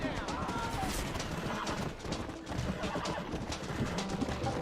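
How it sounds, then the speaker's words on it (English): Horse hooves clip-clop in the video game Red Dead Redemption, a steady rhythmic run of hoofbeats over a busy game soundscape, with brief talk mixed in. "Oh, we're gonna steal the horse and run away."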